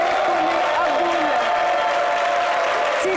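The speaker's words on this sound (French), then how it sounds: "Notre invité se nomme Bey Koné, que je vous demande d'applaudir tout de suite" Studio audience applauding a guest on a midday television set, a steady broadband wash of clapping with some crowd voices mixed in, moderately loud and continuous throughout.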